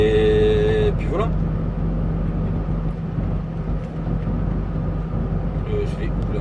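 Cars and trucks pass along a busy road in a steady, loud roar of traffic that never lets up, with someone talking over the noise throughout.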